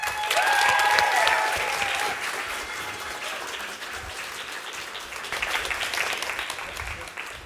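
Audience applause for a photographer at a World Press Photo masterclass presentation: dense, sustained clapping from a large crowd that starts strong, eases slightly, then swells again, with faint voices mixed in.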